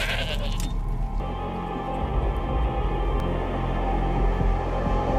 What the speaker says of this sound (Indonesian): Seekor kambing disembelih oleh Lagertha untuk dipersembahkan darahnya kepada dewa.